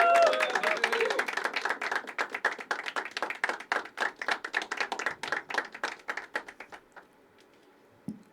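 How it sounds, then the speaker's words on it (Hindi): Sustained applause from an audience at a poetry open mic, dense clapping that thins into scattered individual claps before fading out. "तो क्लैप ऐसे ही कि जब तक आर्टिस्ट मंच पे नहीं आता तालियां बजती रहेंगी।"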